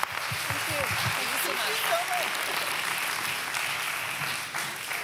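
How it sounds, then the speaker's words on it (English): An audience at a convention session on female leadership and entrepreneurship gives a steady round of applause, with dense clapping filling the room and holding at an even level throughout. "round of applause"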